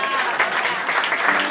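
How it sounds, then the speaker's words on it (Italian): An audience at a poetry book event claps for Camilla, a brief, close, full burst of applause with no pause. "io chiedo un applauso per Camilla"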